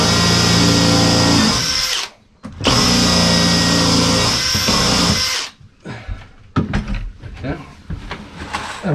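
A power drill bores into wood on a boat under construction, whining loudly and steadily in two long bursts, followed by quieter clatter and handling noises.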